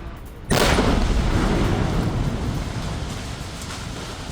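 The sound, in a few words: explosion blowing up a militant's house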